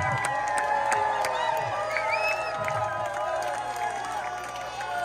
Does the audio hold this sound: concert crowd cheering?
yes